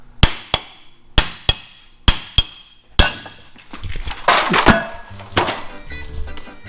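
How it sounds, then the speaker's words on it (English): A hammer strikes metal on a Jeep in a workshop in quick paired blows, sharp and ringing, repeated several times, then gives way to busier clattering and scraping noises. "Hit it with a hammer."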